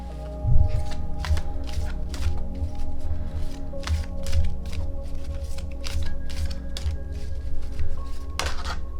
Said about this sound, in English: Actually, I'll pull a card for us